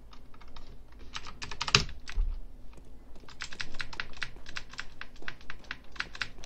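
Rapid clacking keystrokes on a mechanical computer keyboard during competitive CS:GO play, close and fairly quiet, with one sharp knock early on before a steady run of fast typing.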